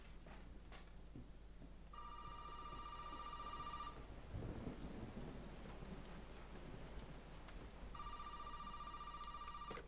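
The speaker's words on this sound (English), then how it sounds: "The phone's ringing." A telephone rings in Resident Evil 7, two shrill electronic bursts spaced apart against a low rumble of rain and thunder, fairly faint overall.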